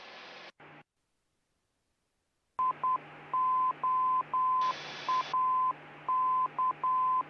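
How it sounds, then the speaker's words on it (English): A navigation beacon's Morse identifier heard in a Cessna Golden Eagle cockpit: short and long electronic beeps repeat in a Morse-like pattern over a steady hiss of radio static, after a brief burst of noise. "that beep beep is an I in the Morse code"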